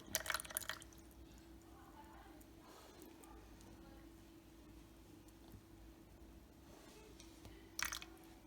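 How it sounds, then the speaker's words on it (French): Water is poured into a container on a scale up to 100 grams, faint trickling and dripping in a quiet room with brief splashy bursts at the start and near the end. "je verse de l'eau dans un récipient jusqu'à 100 grammes."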